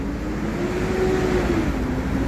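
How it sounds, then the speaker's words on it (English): A loud, steady rumble of a heavy truck passing nearby, with engine drone filling the whole stretch. "loud truck"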